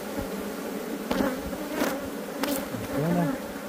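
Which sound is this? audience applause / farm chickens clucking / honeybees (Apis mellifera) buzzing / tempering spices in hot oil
honeybees (Apis mellifera) buzzing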